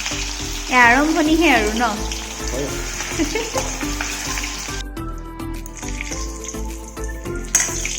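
Potatoes fry in a pan with a steady sizzle, along with stirring and clinks of utensils. A voice speaks over the cooking, and the frying quiets partway through.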